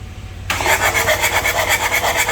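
A Chevrolet Captiva diesel engine cranks and fires after a brief quiet moment, settling into a loud, close, rhythmic chugging idle with no voices over it.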